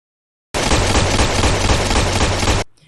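Gunfire from a sniper rifle in a film, a loud, dense, rapid volley that starts abruptly after a half-second of silence, runs about two seconds and cuts off into a brief fading echo.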